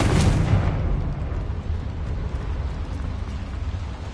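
A Confringo fire-blast spell cast inside a mine in a Harry Potter video game goes off as one loud, broad explosive burst at the start, then trails into a sustained roaring rumble that slowly fades.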